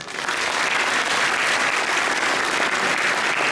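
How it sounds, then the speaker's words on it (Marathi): A large room of students preparing for their HSC board exams claps for themselves, a loud, dense, sustained burst of applause that rises quickly and holds steady without voices. "टाळ्या वाजवा स्वतःचा"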